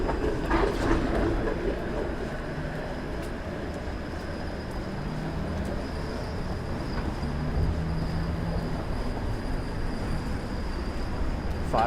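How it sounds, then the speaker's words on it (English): A Toronto 501 streetcar runs along Queen Street on an evening outing, giving a steady, continuous rumble of wheels on rails with faint clatter throughout and no talking. "501 streetcar, Queen Street to Dufferin."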